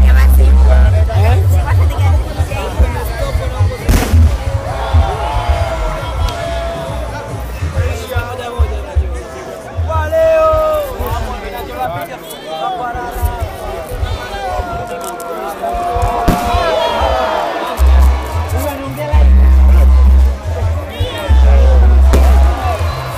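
Fireworks boom in repeated deep thuds above a huge outdoor crowd at a Zanzibar Revolution Day celebration, mixed with steady crowd babble and nearby talk.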